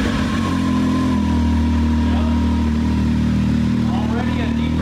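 A 2019 Can-Am Maverick X3 Turbo with a tri-exhaust starts up and settles into a loud, steady, deep idle close by, with a rough rumble throughout.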